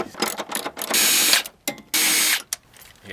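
Socket ratchet clicking as 12mm bolts come off a Volvo S40/V50 rear shock, short ratchety bursts with two longer steady runs and brief pauses between, close and fairly loud.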